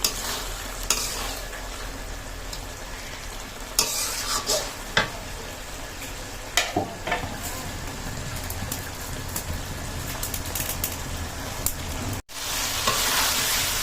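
Ash gourd sautéing and being stirred in a pan for a river fish curry, with a continuous loud sizzle and spatula scrapes that come and go in irregular bursts, heard close up.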